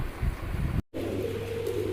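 Fancy racer pigeons at a breeder's loft giving a soft low coo close by, with a brief dropout midway and light background hiss, no voices.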